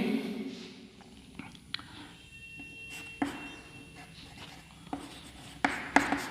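A pencil writing on paper while a geometry angle is drawn with ruler and compass: faint scratchy strokes close by, broken by soft taps and clicks, with a quiet room behind and no clear speech.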